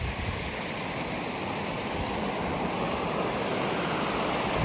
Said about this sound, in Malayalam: വെള്ളം പോകുന്നു എനിക്ക് കാണുന്നില്ല